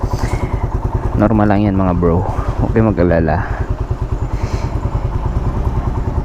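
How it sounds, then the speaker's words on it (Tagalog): A carbureted Raider 150 motorcycle engine runs with a rapid, slightly noisy, rattly idle pulse throughout, close up, while someone talks over it. "Pakikinggan nyo yung tunog ng makina, medyo maingay"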